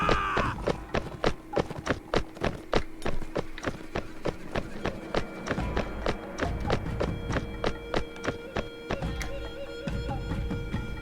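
A horse in the video game Gekokujo Toyotomi clip-clops along in a quick, regular rhythm of hollow hoof thumps, close and clear, slowing near the end with faint background game sounds.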